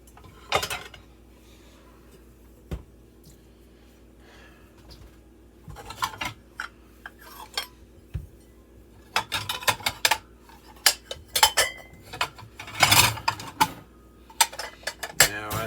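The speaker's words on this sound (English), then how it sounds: "while I'm doing the dishes" Dishes and cutlery clatter and clink in a kitchen sink during washing, with irregular bursts of clanks and scrapes over a low steady hum, close by and fairly loud.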